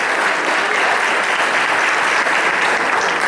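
A church congregation claps its hands in praise during an Easter sermon, a dense, loud, even roar of clapping that holds steady from start to finish.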